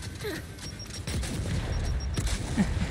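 Gunfire and exploding frag grenades in the Gears of War campaign, a dense, continuous barrage of shots and booms close up in a busy battle mix.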